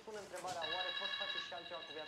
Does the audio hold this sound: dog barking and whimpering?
no